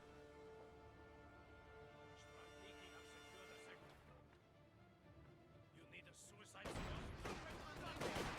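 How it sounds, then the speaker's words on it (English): Artillery barrage in the game Company of Heroes 2, with scattered muffled blasts and then a dense, loud rumble of explosions building at the end, over a steady tonal game soundscape. "You get another artillery barrage coming on in."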